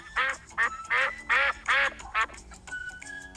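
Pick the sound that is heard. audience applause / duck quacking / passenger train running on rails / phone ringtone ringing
duck quacking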